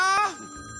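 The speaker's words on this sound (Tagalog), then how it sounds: "Lola, may phone call. Ayun na, nag-ring." A telephone bell rings once in a short, bright, ringing burst that quickly decays, close and clear with no talk over it.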